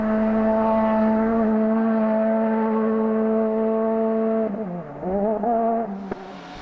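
A Proton Satria S2000 rally car on a forest special stage holds a loud, sustained engine note at steady revs, then dips and wavers as it lifts off and shifts near the end.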